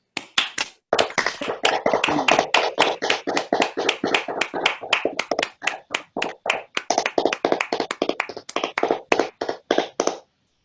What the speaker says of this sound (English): join me for a round of applause for all of us for this successful conference